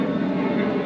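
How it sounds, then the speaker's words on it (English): An airplane passing overhead, a continuous low engine drone with steady tonal hum, moderately loud and unbroken across the short stretch, with no talking. "Got a plane going overhead"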